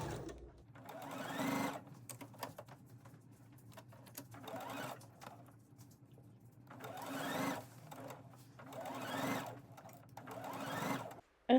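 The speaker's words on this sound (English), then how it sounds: "we're sewing the skirt onto the bodice panel now at 3/8 inch or 1 centimeter seam allowance." A sewing machine stitches a dress skirt onto a bodice panel at a 3/8 inch (1 cm) seam allowance, running in several steady bursts separated by short pauses, close by and alone.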